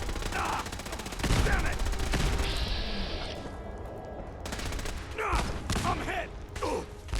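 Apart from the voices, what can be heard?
gunfire in battle, from video game Fallout 4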